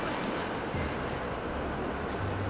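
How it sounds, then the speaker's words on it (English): A steady, loud rushing roar of swirling whirlpool water in Zelda Skyward Sword HD, continuous and broadband with no distinct breaks. "Dive into the whirlpool!"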